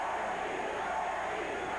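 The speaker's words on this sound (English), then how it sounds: "The crowd roars as one for Benny the Jet" A boxing crowd roars for Benny "the Jet" Urquidez in his fight against Yoshihisa Tagami, a dense, steady wash of distant cheering heard faintly throughout.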